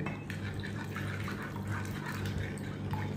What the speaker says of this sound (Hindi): अब मैं इसमें डालूंगी 1 ग्लास पानी